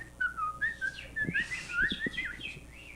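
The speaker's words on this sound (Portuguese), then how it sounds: "passarinho" A small bird sings a run of bright, sweeping whistled chirps and trills, fairly close and clear, with no talking.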